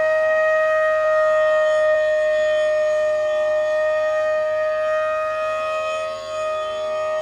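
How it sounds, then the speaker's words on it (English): A bansuri flute sounds a long sustained note out of tune, the slightly mismatched pitches producing a wavering flanging shimmer that stays loud and steady throughout with no talk. "what cannot happen is this flanging effect, which I'm going to play and show you on the sa."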